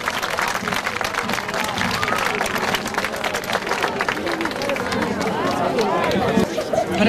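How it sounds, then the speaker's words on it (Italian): Audience applause at a local sports club's anniversary celebration, a lively, sustained clapping crowd mixed with murmuring voices and chatter throughout. "Accogliamolo con un applauso di incoraggiamento."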